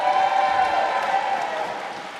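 Curling final crowd applauding and cheering for Team McEwen, a dense roar of clapping with whistles and shouts, loud at first then slowly tapering off across the arena.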